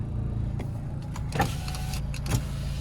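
The electric power windows of a Renault Scenic run inside the car, giving a few short, quiet motor whirs and clicks over a low cabin hum.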